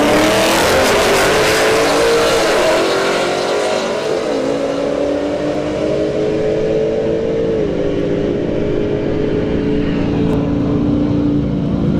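An S550 Ford Mustang, likely a 5.0, and a fifth-generation Camaro launch side by side at a drag strip, engines roaring loud and close, then rising through gear changes as they pull away. The roar fades slightly toward the end.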